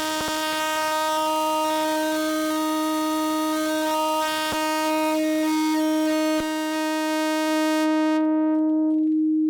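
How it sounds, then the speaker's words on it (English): A steady electronic tone from a phase-modulated sine wave oscillator on an Intellijel Shapeshifter module, with rich, evolving harmonics, sustained and loud, shifting timbre slightly over time before the upper overtones cut out near the end. "That's phase modulating in a sine wave oscillator by itself"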